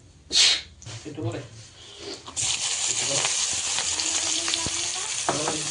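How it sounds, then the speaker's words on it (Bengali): Onions hit hot oil already fried with cumin, setting off a loud, steady hissing sizzle that runs on after a few seconds of quieter handling and a brief voice, with occasional stirring knocks. "পেঁয়াজগুলো একটু ভেজে নিই"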